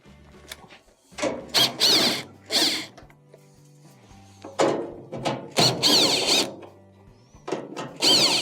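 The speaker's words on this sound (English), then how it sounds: "To remove your console, you have two 1/4" screws that have to be taken off." Quarter-inch screws backed out of the console of a Maytag dryer with a power driver, several short whirring, squealing bursts separated by pauses and faint handling clatter, close by and with no talking.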